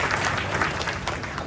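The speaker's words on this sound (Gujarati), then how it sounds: "અનિલ માટે એકવાર જોરદાર તાળી," Audience applause at a meet-and-greet event in Leicester, UK, an even, dense clapping from a crowd that holds steady through the whole short stretch with no voices over it.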